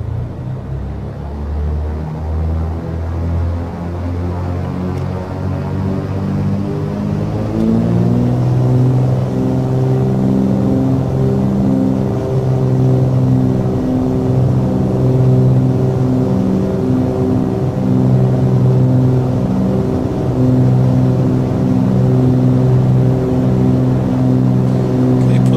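The twin engines of a Cessna 310R in Microsoft Flight Simulator drone steadily, then climb in pitch and loudness to takeoff power after several seconds and hold a loud, sustained, even roar.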